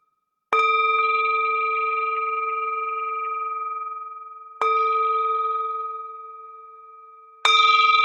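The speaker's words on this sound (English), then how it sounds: "I'll ring the bell to get us started" A meditation bell is struck three times, each bright, clear ring sustaining and slowly fading into near silence before the next strike, with no voices over it.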